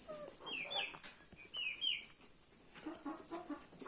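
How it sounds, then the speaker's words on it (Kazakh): Chickens in a winter farmyard pen cluck and squawk in short, irregular bursts, near and moderately loud, with several birds calling over one another. "Сізге тауықтарымыз осы, барлығы бір қалыпты."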